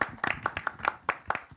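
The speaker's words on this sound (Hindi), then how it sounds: "रोहित सर के लिए एक बार जोरदार ताली everybody" Audience clapping for film director Rohit Shetty at a Khatron Ke Khiladi event, a short burst of scattered, fairly quiet claps from a small crowd with uneven rhythm.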